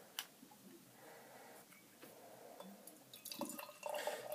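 Tree House In Perpetuity IPA beer pours into a glass: faint liquid trickling and fizzing with small drips and clinks, building toward a fuller gurgling pour near the end, quiet and close with no talk.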